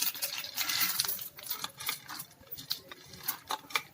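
Chana dal tipped into hot oil already holding mustard seeds, making a quick patter of light ticks and pops followed by scattered crackles as the lentils settle and begin to fry, close and fairly quiet.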